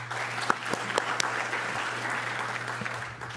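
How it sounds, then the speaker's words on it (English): Audience applause at a liver transplant conference, a steady wash of clapping with a few sharper individual claps standing out, continuing evenly for a few seconds at moderate volume. "And let's give them a round of applause as well."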